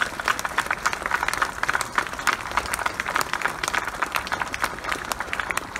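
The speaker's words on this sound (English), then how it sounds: "Let's have a big round of applause for it" Audience applause fills the air at a depot open day ceremony naming an HST power car, a dense, steady clatter of many hands clapping throughout, close and sustained without pause.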